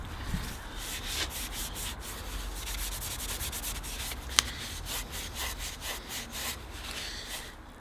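Steady scuffing of an engine part with abrasive to key the surface before painting, a soft continuous rubbing rasp with rhythmic back-and-forth strokes, fairly quiet and close, with one sharp click partway through.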